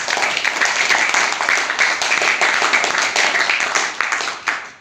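An audience at an online-business team gathering applauds, a dense, steady roar of many hands clapping that holds loud and even for several seconds before tapering slightly at the end.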